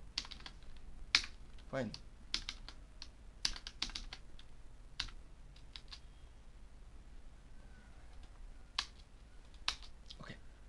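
Clicks and taps on a computer keyboard come in short irregular bursts while someone types JSON, fairly close and quiet, with a brief spoken word partway through.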